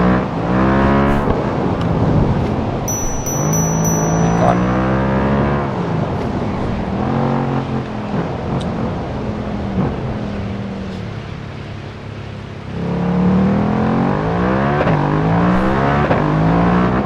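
A KTM 1290 Super Duke with a Leo Vince exhaust in the RIDE 5 racing game, its engine revving up and down in repeated loud, sustained pulls with a steady rising and falling drone throughout.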